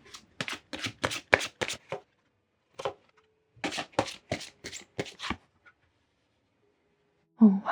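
Oracle cards being shuffled for a tarot reading: quick bursts of crisp riffling and shuffling in two clusters, separated by short pauses, close and clear with no talking.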